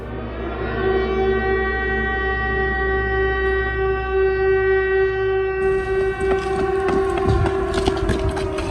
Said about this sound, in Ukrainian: це відбій повітряної тривоги